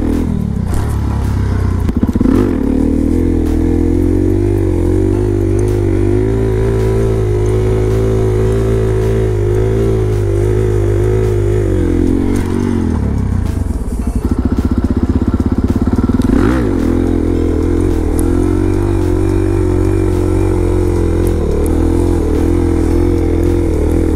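A Suzuki DRZ400SM supermoto motorcycle is ridden with its single-cylinder engine droning loud and close, rising and falling through gear changes with a brief drop in revs midway, plus wind rush and light clatter.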